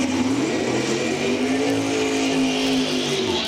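Drag racing cars launch from the starting line at Numidia Dragway during the ET finals. A loud, continuous engine roar holds steady and close with a slowly rising tone, and no voices are heard.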